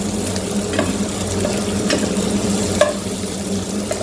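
Chicken frying with fenugreek leaves in a pan, a continuous close sizzle with a soft rattle of stirring and a few sharper pops, moderately loud and with no one talking.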